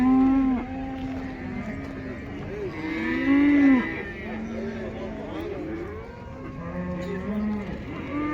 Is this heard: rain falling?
no